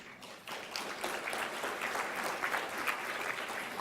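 A gala audience applauds steadily for several seconds, the dense clapping of a large crowd starting just after a brief quiet moment and holding at an even level throughout.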